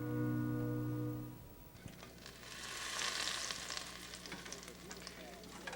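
Half a cup of overheated Wesson oil with half a stick of butter in a frying pan, meant for steelhead, begins hissing after a low tone fades, then a close, loud, continuous crackling sizzle.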